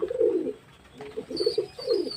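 Pigeons cooing close by while feeding from a box, several low rolling coos in short bursts with brief gaps, alongside faint higher chirps and no talking.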